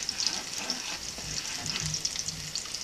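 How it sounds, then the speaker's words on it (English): Caramel bubbling and frying in a pan with garlic and peppers for Thai-style dogfish, a close, steady sizzle with soft crackles and occasional low bubbling pops, no voices. "Caramel is starting to bubble."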